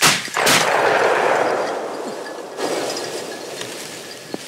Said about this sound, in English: Old time grouse hunting now, Danny.